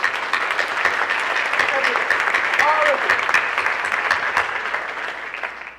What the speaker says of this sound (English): I think we deserve a round of applause for everyone here.